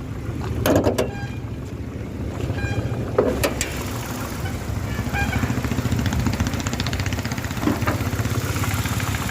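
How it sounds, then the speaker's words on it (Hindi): A Hyundai Eon Magna Plus with a 1.0-litre three-cylinder Kappa petrol engine idles close by with a steady, throbbing hum, punctuated by a few sharp clicks and taps. "और यह है अपना कापा इंजन"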